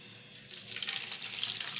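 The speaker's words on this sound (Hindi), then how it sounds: "अब मैं इसमें करेले डाल दूँगी।" Bitter gourd (karela) slices hit hot oil and begin frying with a bright, close hiss that swells after a quiet start and holds steady, crackling lightly.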